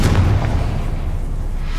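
A Confringo fire spell explodes in Hogwarts Legacy, a loud low boom in the first half second that rolls into a sustained deep rumble with no voices.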